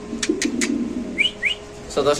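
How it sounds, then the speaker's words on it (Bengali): Pigeon sounds with soft low cooing and a few whistled chirps, close by, amid a busy murmur of background activity at a pigeon market. "এখানে আছে এক পিস মুন্ডিয়ান কবুতর"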